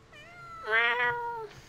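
In the game Eizoku, a cat gives a soft short mew and then a louder, drawn-out meow, close and alone over a quiet background.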